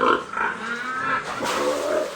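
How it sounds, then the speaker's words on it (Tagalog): Sows on a pig farm grunt and squeal in a steady, fairly close chorus of overlapping animal calls across the whole stretch, with no clear talk over them. "Mga inahing baboy."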